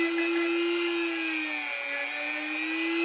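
A Dremel rotary tool grinds on a plate carrier vest, giving a steady high-pitched whine that dips slightly in pitch partway through as the tool bears down, loud and close with no talk.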